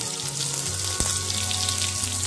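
Garlic frying in oil for a village-style tandulja greens dish makes a close, bright, steady sizzle, with a low hum running beneath it and a brief pop near the middle.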